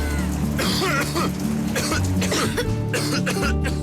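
Repeated harsh coughing fits in a TV advertisement, close and loud, with throaty rasps and brief pauses between bursts.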